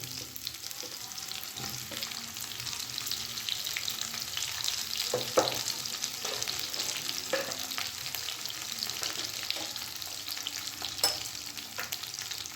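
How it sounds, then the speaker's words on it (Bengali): Sliced pointed gourd (potol) frying in hot oil in a pan, a steady close sizzle punctuated by occasional scrapes and taps of a spatula as it is stirred. "এবার আমি কেটে রাখা পটলগুলো দিয়ে হালকা করে ভেজে নেব"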